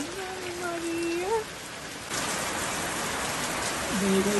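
Steady rain falls in the mountainous countryside of Yauco, a dense, even patter that grows heavier and closer midway, with a voice speaking briefly at the start and again near the end.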